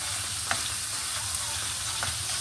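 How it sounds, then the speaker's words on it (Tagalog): Ingredients for pork liver adobo sauté in a pan with a steady sizzling hiss, broken by a few short scrapes and clicks of a utensil stirring at irregular intervals. "igisa natin naman yung iba"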